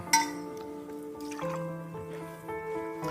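Liquid pours into a glass, its gurgling pitch rising as it fills, with a light clink at the start.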